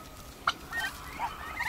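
Turkey poults and chicks on a farm, heard as a few faint, short high-pitched peeps and chirps at moderate distance over quiet background.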